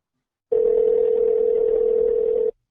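A steady electronic telephone tone sounds alone for about two seconds on one unbroken pitch, then cuts off.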